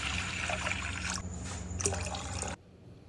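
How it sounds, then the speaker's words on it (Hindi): Water poured from a vessel into a pan on a gas stove, a steady close splashing trickle that runs for about two and a half seconds, then stops abruptly. "उसमें पानी डाल देंगे 3-4 कप।"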